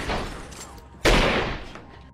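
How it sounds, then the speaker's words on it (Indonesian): Gunfire exchange during an armed robbery in a film, with a sharp loud burst of shots at mid-clip over a noisy, rumbling background of earlier blasts and commotion. "Baku tembak pun terjadi."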